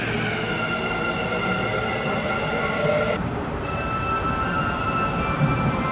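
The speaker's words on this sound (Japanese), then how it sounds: "今度は大阪難波方面の回送列車が到着しましたね。" A Kintetsu limited express train running out of service pulls into a station, a steady loud rumble of wheels and motors rolling on alone without pause.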